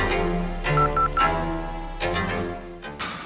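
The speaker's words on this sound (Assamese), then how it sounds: "ঐ হৰিহৰক ফোনটো লগাচোন" A telephone being dialed in an Assamese short film: three short, evenly spaced keypad beeps sound close and clear over a low room hum, followed by a few fainter tones.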